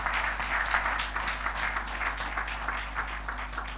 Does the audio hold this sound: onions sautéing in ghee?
no